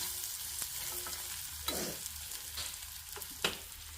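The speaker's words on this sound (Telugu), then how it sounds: "సో ఇంకా ఎర్రగా వేపుతున్నాను అనమాట." Onions and cashews frying in a pan, a soft steady sizzle with a few light stirring scrapes and taps, fairly faint and without talk.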